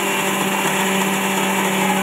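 A kitchen mixer grinder runs steadily, grinding roasted coconut, coriander and cumin into a paste, with a loud, continuous high whirring motor drone throughout.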